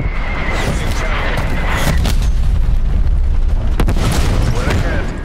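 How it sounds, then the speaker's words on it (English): Artillery strike in a Call of Duty: Black Ops Cold War 12v12 multiplayer match: a continuous heavy rumble of booming explosions, with a few sharp cracks standing out in the middle. "Hostile artillery targeting active. Artillery inbound."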